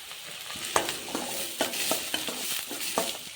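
Curry leaves frying with onion in a pan, crackling and sizzling steadily with several sharper pops and stirring scrapes over a continuous hiss, close by.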